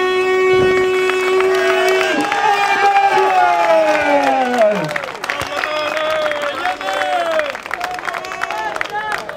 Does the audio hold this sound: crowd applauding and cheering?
yes